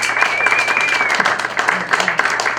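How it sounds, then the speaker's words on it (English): A live audience at an underground show applauds after an interview, a short steady patter of clapping with a voice speaking over it. "Big round of applause for"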